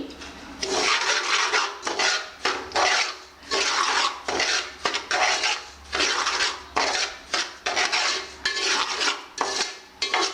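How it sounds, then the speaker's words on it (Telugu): Semolina (rava) dry-roasting in a little oil in a pan for upma, stirred with a utensil, making repeated rough scraping and rasping strokes in steady bursts, close and fairly loud with no talking. "నూనె పోసుకొని ఒక 5 నిమిషాలు వేయించుకోవాలి"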